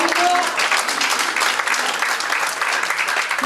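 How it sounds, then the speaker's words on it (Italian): An audience applauds at a stage ceremony in Genoa, a dense, sustained clatter of many hands clapping with a brief voice over it at the start. "Un applauso."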